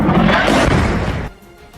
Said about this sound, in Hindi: उस इमारत में भयंकर धमाका हो गया